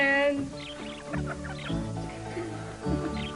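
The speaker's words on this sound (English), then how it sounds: "Three French hens." Hens clucking in a soap-opera scene, a run of short, close, choppy clucks and squawks in quick irregular bursts over a few seconds.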